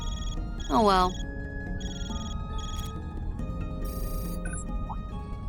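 A phone rings in the video game Trails Through Daybreak, with bright electronic ringtone chimes repeating over game music while a person speaks briefly.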